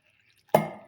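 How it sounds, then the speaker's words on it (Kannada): A little water splashes into a pot of sorrel-leaf curry, one short splash that breaks a near-silence and then fades quickly. "ಒಂದು ಸ್ವಲ್ಪ ನೀರು ಹಾಕ್ತೀನಿ ನೋಡ್ರಿ."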